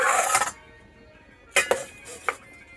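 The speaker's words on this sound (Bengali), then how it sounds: "দেখুন এখানে কড়াইটা বসিয়েছি" A metal wok, a karahi, is set down on a kitchen stove, giving a loud clattering clank at the start and then a few sharper metallic knocks and clinks a second later, with no talking.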